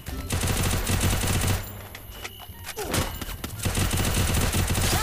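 Rapid automatic gunfire bursts in the Free Fire battle royale game, loud and close, with a short pause partway before more sustained firing and a few distant shots.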